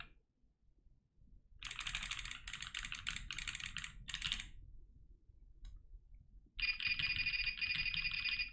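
Typing on a Class1800 mechanical keyboard in a top-mount build, close and clicky: two bursts of rapid keystrokes separated by a short quiet gap, the second burst denser and louder.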